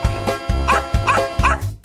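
A red Doberman at a dog park barks in a quick run of four loud, close, deep barks, evenly spaced.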